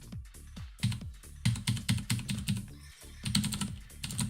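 Fast, dense typing on a computer keyboard, with close, crisp keystrokes in quick bursts and one brief pause near the middle.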